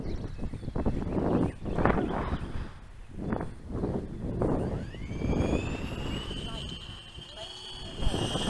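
A Freewing AL37 model jet's engine whines and rises in pitch as it takes off on its first flight, with wind buffeting the microphone and a voice speaking over it.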